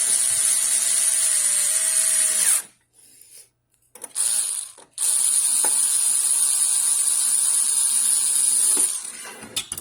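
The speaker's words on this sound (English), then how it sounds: "Now I just get the screwdriver to tighten them up." An electric screwdriver whines in long high-pitched runs while tightening hard drive screws inside a DVR, stopping briefly for a couple of short pauses.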